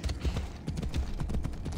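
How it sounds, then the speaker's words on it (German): A horse in the video game Assassin's Creed Odyssey gallops in, its hooves thudding in a quick repeating clip-clop rhythm, close and prominent with no speech over it. "Pferd, komm her."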